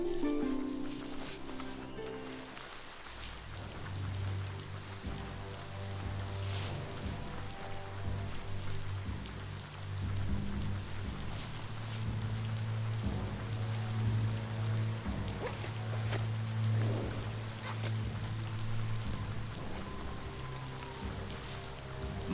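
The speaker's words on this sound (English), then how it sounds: "Might want to look for shelter from the rain." Steady rain in the video game Biomutant, a continuous hiss running throughout under low tonal game music and ambience.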